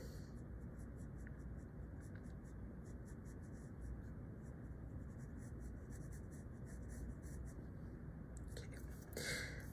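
A pencil scratches across paper in quick, soft, continuous strokes while eyebrows are drawn on a portrait of a person facing forward, close and quiet throughout.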